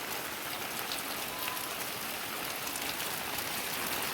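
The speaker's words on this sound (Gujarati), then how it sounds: "એકદમ ફૂલ વરસાદ ચાલુ થઈ ગયો" Heavy rain falls in a steady, unbroken hiss of drops striking surfaces close by, uniform in level throughout with no talking.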